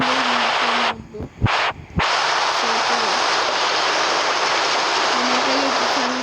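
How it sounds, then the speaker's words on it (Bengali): Steady rain falling in the video game Minecraft, a loud even hiss throughout, briefly cut out by a few short interruptions, with a faint tonal hum beneath. "বৃষ্টি নামতেছে"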